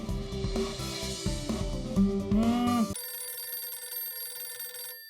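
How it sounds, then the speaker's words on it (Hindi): A telephone rings in a home scene from a sitcom. First comes a busy, tonal ringtone mixed with music, then a clean, steady electronic ring that carries on alone for about two seconds before it stops. "ये तो गोकुलधाम सोसाइटी से फोन है, लंबा चलेगा"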